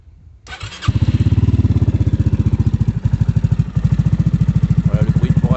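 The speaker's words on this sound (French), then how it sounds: "Voilà le bruit au ralenti." A Yamaha XMax 125/250 scooter fitted with a Delkevic exhaust starts up and settles into a loud, steady, rapidly pulsing idle, recorded close with no talking.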